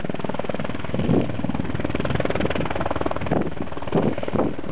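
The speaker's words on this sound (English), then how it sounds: "The rescue helicopter is coming in for a landing." A rescue helicopter comes in to land at a high-altitude base camp on Aconcagua, its rotors chopping loudly and steadily throughout with wind buffeting the microphone.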